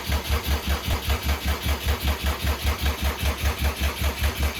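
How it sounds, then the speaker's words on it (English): The engine of a 2007 Subaru WRX swapped to STi cranks over steadily without catching, a loud, close, rhythmic starter churn pulsing evenly for several seconds with no firing. "So that's it, cranking over."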